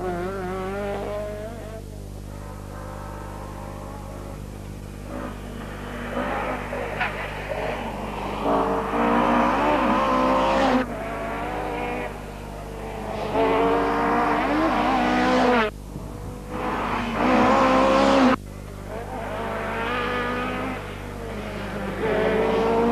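Rally cars, a Lancia among them, race on the 1983 Circuit of Ireland Rally, engines rising and falling in loud surges as they pass, over a steady low hum.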